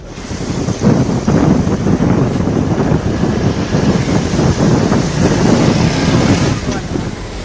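Strong gusting wind buffets the microphone over a continuous roar of high, crashing sea waves on the south Indian coast during Cyclone Ditwah, loud and sustained throughout.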